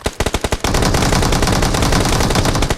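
Rapid automatic gunfire in the mobile battle royale game PUBG Mobile, a burst of separate loud shots giving way to a dense, continuous stream of fire up close with no talk over it.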